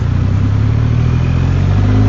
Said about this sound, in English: This is a seriously impressive looking motorbike.